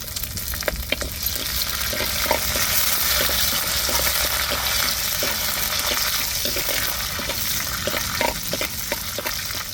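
Curry leaves sizzling in hot oil while a fish curry is being made, giving a steady broad frying hiss with small crackles and stirring clicks throughout, fairly close, with no talking.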